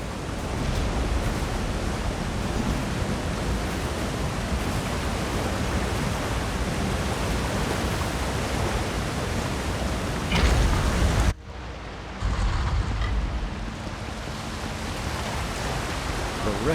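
Steady rushing roar of a waterfall in Elder Scrolls Online, a broad constant wash of falling water that fills the scene, briefly cut short near the end before resuming at a slightly lower level.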